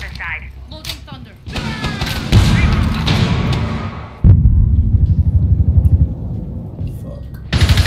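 Heavy, booming gunfire and blasts from the video game Rainbow Six Siege, with a rapid series of loud shots in the latter half and a rumbling explosion earlier.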